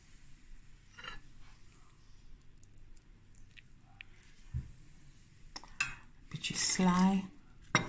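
A minced meat one-pot meal being served onto plates: utensils clink and scrape against the pot and dishes in scattered close knocks, building to a louder clatter near the end, with a voice speaking briefly.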